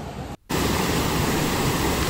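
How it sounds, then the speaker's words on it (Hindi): A running water pump and fast-flowing water make a dense, steady rushing noise that cuts out briefly near the start and then continues loud and unbroken. "वाटर पंप है, चल रहा है ना।"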